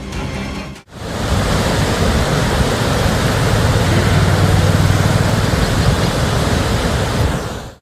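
Heavy, steady roar of water rushing out of a dam in Lalitpur after heavy rain, a loud broadband torrent that begins after a brief break and continues unbroken with no voices.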